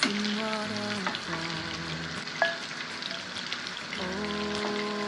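Marinated prawns fry in hot oil in a frying pan with a dense, even sizzle that carries on without pause. A light stirring scrape is heard partway through.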